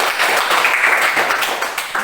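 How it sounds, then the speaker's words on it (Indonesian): A classroom full of students claps together for a couple of seconds, a dense, even burst of applause with no voices. "Tepuk tangan untuk Ajas Manua."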